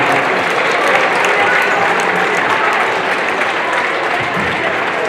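A crowd at a WIAA Division 5 girls' regional basketball final in a gym applauds both teams, with steady, loud clapping and a murmur of voices mixed through the ovation.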